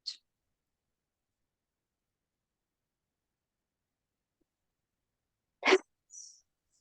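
A single sharp sneeze, close and fairly soft, followed by a short breathy exhale, with near silence before it.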